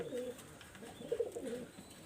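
Salara breed pigeon cooing nearby in soft, repeated low coos that swell briefly in the middle, with a steady hum of ambient noise underneath and no talking.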